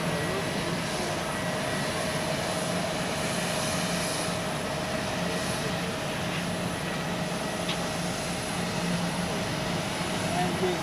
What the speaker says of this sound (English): an Edelweiss A340 departing to Cancun in Mexico